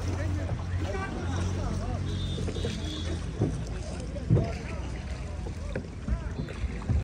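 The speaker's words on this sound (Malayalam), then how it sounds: "അയാളുടെ ശിക്കാരയിലാണ് നമ്മൾ പോകുന്നത്" A wooden shikara boat gliding across a lake in Kashmir: a soft, steady wash of water and paddling runs under nearby people talking, with a few louder splashes or knocks.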